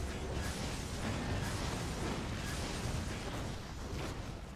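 A warlock's Devouring Shadows spell being cast in the game Rift, heard as a dense, continuous roaring wash of magical noise with a few soft bursts, steady and loud throughout.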